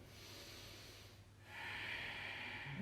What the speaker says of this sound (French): On maintient un souffle Ujjayi.